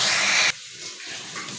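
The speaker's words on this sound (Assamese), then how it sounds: "অকণমান পানী দি দিছোঁ মছলাকণ গলি নাযাবৰ কাৰণে।" Water poured into a pan of frying spices with chili powder and turmeric, a loud steady splashing pour that cuts off abruptly after half a second, leaving quiet sizzling.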